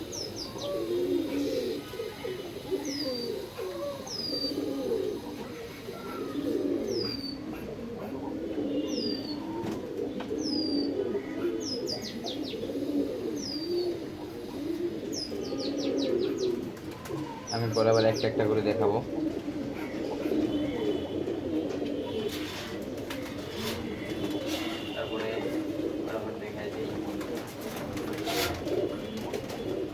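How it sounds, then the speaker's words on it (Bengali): Male green-necked pigeons, including an old senior bird, coo in steady overlapping rounds close by, with higher chirps and a brief flutter of wings mixed in while someone talks over them throughout. "এটা একটা সবুজ গলা কবুতর"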